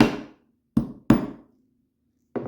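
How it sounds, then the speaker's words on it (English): A hammer taps screws into the mounting holes of a slant furniture leg, four sharp separate knocks with short pauses between, close and clear with no talk. "take a hammer and just tap"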